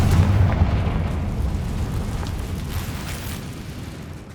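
In Hogwarts Legacy, a Confringo spell sets off a heavy booming blast. It hits loud and close at the start, then rolls on as a deep rumble that slowly fades.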